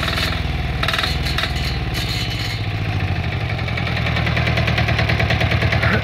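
Small engine at an engine repair workshop in Varshets, running steadily with a rapid, even putter at close range that grows a little louder and rougher partway through.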